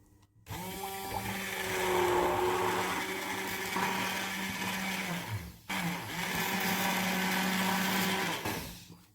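A blender whirs loud and steady, blending bullet coffee with a spoonful of nut powder, cutting out briefly midway before spinning up again for a second long run.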